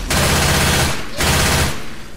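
Gunfire in Left 4 Dead 2, two sustained loud bursts of rapid automatic fire, each lasting about a second, close and dense, with a short gap between them.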